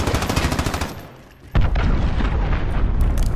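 A cruise missile strike in the Modern Warfare beta lands as a loud, dense burst of heavy blasts and rattling gunfire-like booms, dropping off briefly before a second powerful explosion hits and rumbles on to the end.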